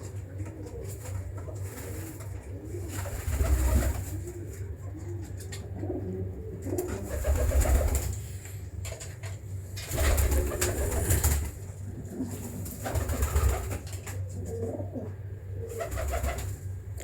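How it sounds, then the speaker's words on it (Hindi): Breeding pigeons in a loft, including Bhatt Sahab's taar-type and Ferozpuri birds, coo repeatedly in low rolling phrases, several overlapping at close range with louder bursts every few seconds. "इनके अंदर भट्ट साहब के तार वाले कबूतर भी हैं"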